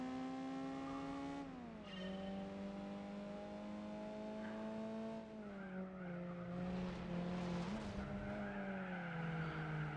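Race cars in Gran Turismo 4 roar steadily with engine pitch rising and falling through gear changes, joined midway by squealing, skidding tires, all loud and close with no talk.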